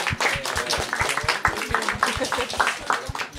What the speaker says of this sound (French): Je crois que vous pouvez vous applaudir.